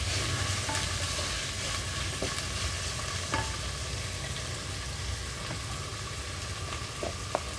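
Cut carrot, tomato and beans fry in a pan, giving a steady, close hissing sizzle with a few light clicks of stirring and no voices.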